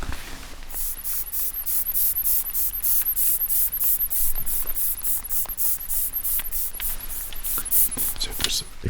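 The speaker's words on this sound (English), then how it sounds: "tiny mist which comes out, but the trigger sound is very powerful and very strong." A spray bottle trigger pumped repeatedly, each press releasing a fine mist in a steady rhythmic series of about twenty crisp, close hisses, with a soft whispering voice underneath.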